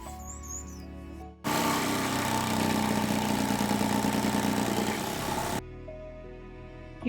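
A router cuts wood for an Ikea sewing table build, a loud steady whining roar that starts abruptly, runs about four seconds at close range, then cuts off, with no talking.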